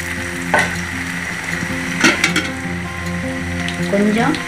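Cauliflower pakoda (Gobi 65) pieces dropped into hot oil and deep frying, a loud, close, continuous bubbling sizzle with a few sharp clinks and scrapes from the pan, with a steady hum underneath.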